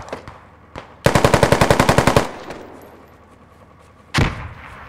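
Video game gunfire: a loud, close, rapid burst of about a dozen automatic shots, then after a pause a single heavy shot, with no talking.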